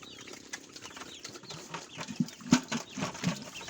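Farm chickens clucking near feeding pigs, scattered short clucks and a flutter of wings close by, with no talk.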